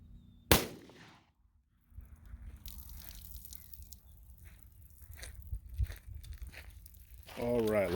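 A .357 Magnum revolver fires a single sharp shot into ballistics gel from about fifteen feet, loud and close, followed by quieter handling noise, faint clicks and a voice toward the end.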